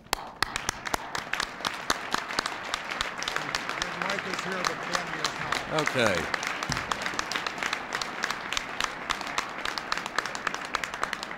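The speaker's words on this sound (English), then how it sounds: "Candy and Mike, please stand so we can applaud you." Dinner guests at the 1995 Radio & TV Correspondents' Association Dinner give a steady round of dense clapping that runs throughout, while someone speaks briefly over it near the middle.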